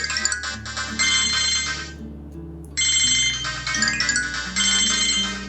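Incoming-call ringtone on an Itel Magic X 4G keypad phone, a bright repeating electronic melody played loudly and close with a brief pause midway, no talking.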